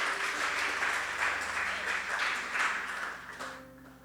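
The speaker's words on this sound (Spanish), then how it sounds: "Démosles un fuerte aplauso a los de audiovisuales" A church congregation applauds steadily and loudly, the clapping sustained throughout before thinning out near the end.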